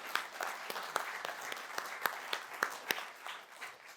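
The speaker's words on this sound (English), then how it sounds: "I just want to give those partners a big round of applause for this" Applause breaks out at a civic mobility innovation event, with sharp individual claps standing out from a softer crowd patter that tapers off toward the end.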